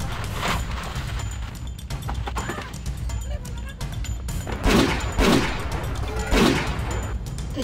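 Several sharp gunshots crack out in a sparse sequence, loud and close, over a noisy outdoor background with some voices.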